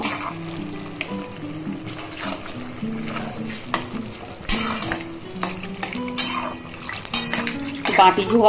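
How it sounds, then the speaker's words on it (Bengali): A spoon stirs egg-and-cauliflower rosha curry after water from a rinsed bowl goes in, giving steady clattering, scraping and sloshing against the pan with a voice faintly underneath. "এটা ভালো করে মিক্সড করে দেবো"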